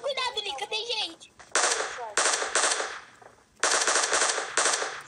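Automatic gunfire from the mobile game PUBG Mobile comes in several loud, rapid bursts separated by short pauses, after a voice talks at the start.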